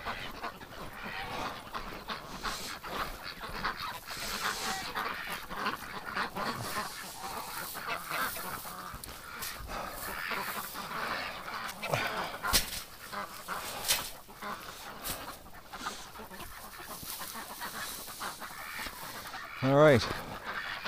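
Ducks outdoors in winter give repeated honking quacks amid steady wet background noise, with a louder cluster of calls near the end; little talk is heard.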